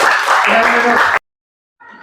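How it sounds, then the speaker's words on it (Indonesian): Schoolchildren in a classroom applaud briefly, a loud burst of clapping mixed with voices that cuts off abruptly, followed by a short moment of talk. "Tepuk tangan sekali lagi buat mereka."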